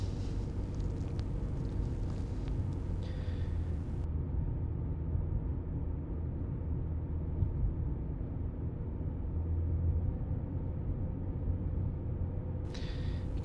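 A car climbs Mountain Straight at the Mount Panorama circuit, heard from inside as a steady, low rumbling engine and road drone that stays constant and fairly quiet throughout.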